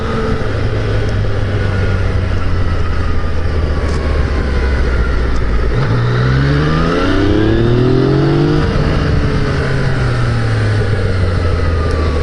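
Yamaha FZ-09 motorcycle engine on a road test ride, a loud steady drone with rising and falling revs as it accelerates and shifts through gears, under continuous wind rush.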